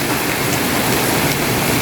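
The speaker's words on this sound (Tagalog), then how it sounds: "parang tinutodo niya yung ulan." Heavy early-morning rain pours down onto surfaces outside, a loud, dense, unbroken hiss of countless drops close by, with no voices.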